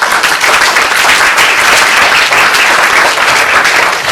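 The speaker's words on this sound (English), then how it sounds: "But a big round of applause and sincere thanks to HSBC" Applause fills the hall at an awards function for the HSBC Hyderabad Bird Race, a loud, dense, continuous roar of many hands clapping close by without pause.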